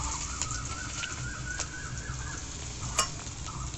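Chopped onions frying in hot oil with black cumin seeds for a Bengali fish dish, a steady sizzle throughout while birds coo and chirp faintly nearby, plus a couple of brief sharp clicks.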